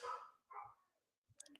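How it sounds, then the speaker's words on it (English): A dog barks in the background, two short, fairly faint barks followed by a quick cluster of higher yips, with quiet gaps between them. "That'd be my dog barking up a storm."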